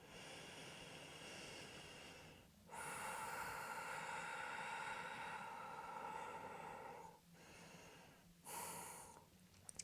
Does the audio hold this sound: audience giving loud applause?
no